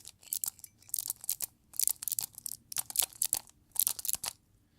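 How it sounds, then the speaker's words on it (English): Rapid bursts of crisp clicking and rattling come in repeated groups as a magnetic Skewb puzzle cube is twisted quickly, close up with short pauses between turns. "you can hear that there's like clicking in between"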